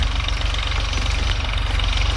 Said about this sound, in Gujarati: ઘડીના ટ્રેક્ટર હકારે મારા મોટા પપ્પા.